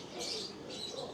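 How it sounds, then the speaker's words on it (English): Pigeons cooing from bird houses on a residential rooftop in Quezon City, Philippines, a soft, steady run of calls heard at a distance with no break. "Oh yeah, pigeons, I see them."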